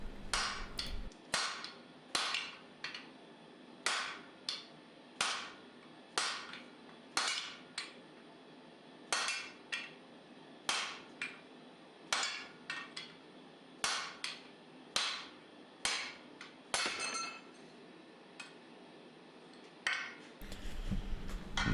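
Steady, evenly spaced hammer blows ring out on a hot cut over round stock while the tang of an integral knife is forged, with roughly twenty crisp, bright metallic strikes at close range.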